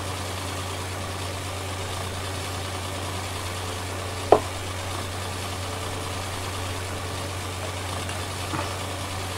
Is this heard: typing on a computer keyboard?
no